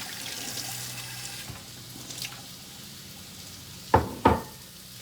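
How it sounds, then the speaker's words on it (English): A kitchen tap runs softly as a dish is rinsed out under the water, and two sharp knocks sound near the end. No one speaks. "I got to wash my dish out."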